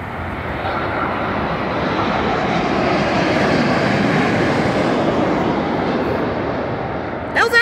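A350-1000 airliner engines roar in a broad, steady rumble during the takeoff run, swelling and then easing slightly, heard from inside the cabin; a voice briefly near the end.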